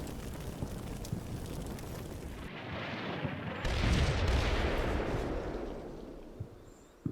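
Heavy artillery fire from the Combat Mission Black Sea war game rumbles as a dense, sustained barrage, with deep booms rolling together into a loud wall of noise that swells midway and then slowly fades.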